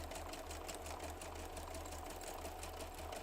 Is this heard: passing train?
no